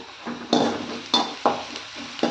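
Onions fry in a pan for dried anchovy thokku: a soft sizzle is broken by four loud, scraping stirring strokes at uneven intervals, close by, with no voices.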